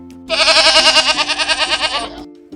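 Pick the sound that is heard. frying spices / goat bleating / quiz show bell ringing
goat bleating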